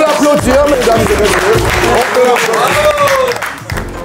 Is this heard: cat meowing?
no